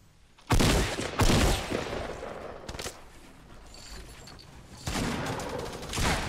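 Gunfire in the video game Fortnite during a tournament finals match, with loud broadband bursts of shots and a volley, then quieter game noise before more shots resume.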